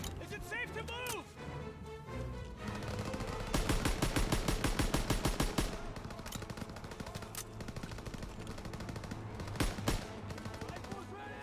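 Rapid machine gun fire rattles in sustained bursts in the Call of Duty World War 2 campaign, with sharp single shots and a dense fusillade, and soldiers' voices are heard briefly.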